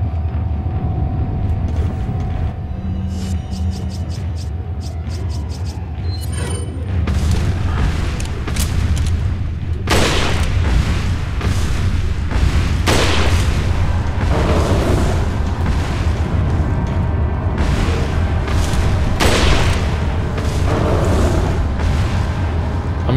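Gunfire in Resident Evil 4 rings out as repeated heavy booming shots over a loud, rumbling game soundtrack, several blasts spaced a few seconds apart.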